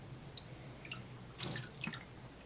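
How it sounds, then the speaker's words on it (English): Tap water running and dripping through the parts of a cap and ball revolver cylinder during cleaning, a faint steady trickle with a brief louder splash midway and scattered drips. "I let the water run through them, if it will"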